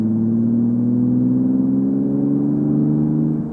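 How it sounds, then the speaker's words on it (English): A V4 engine in a car on a test drive after a fan shroud install, heard from inside with the windows closed: a steady, loud, droning hum with a slowly rising pitch as it pulls, with no talk. "I hope you can hear the engine good, because it's a really nice sound."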